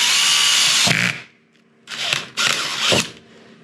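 A power drill with a hole saw whines steadily for about a second while cutting into an RV roof, stops, then runs in two more short bursts with brief pauses between.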